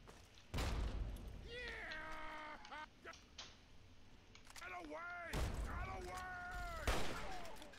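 Gunshots in the video game Fallout 3, a few sharp booming bursts spaced out among sweeping tonal game effects and voices, moderately loud against a busy background.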